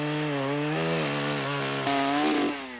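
A chainsaw cuts firewood on a New England country road in October, its engine droning steadily with pitch shifts as the blade bites, loud and close throughout with no voices.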